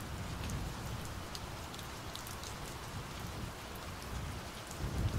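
Steady rain falls at night as a dense, constant hiss with scattered drops, and a low rumble rises near the end.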